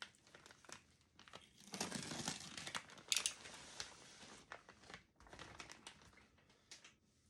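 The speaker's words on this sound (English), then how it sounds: "Now I'm going to cut the plastic off." Plastic wrapping being cut off a Reptichip substrate block, with crinkling and tearing plastic, a few sharp snips and rustles, quiet and close.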